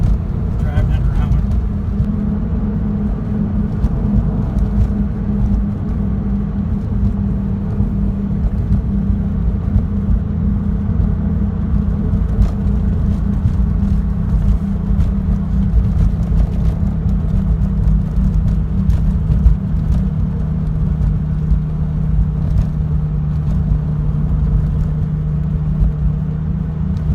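A 2003 Porsche 911 (996) Turbo being driven, its engine a steady low drone with road rumble heard from inside the cabin, holding an even level throughout.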